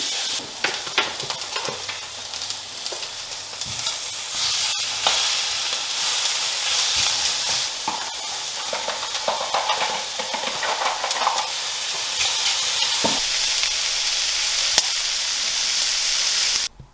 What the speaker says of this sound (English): I'm just going to salt up the steak, get that on the pan